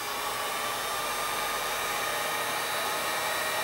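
A heat gun blows hot air onto plastic while a DIY stripping basket for saltwater fly fishing is shaped, producing a steady, close, loud whooshing roar that continues evenly without a break.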